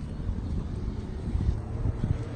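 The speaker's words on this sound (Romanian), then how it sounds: "nu știu cât de bine m-am auzit, pentru că bate și vântul" Wind near a beach rushes across the microphone as a soft, steady low rumble with occasional small gusty thumps, fairly faint and continuous.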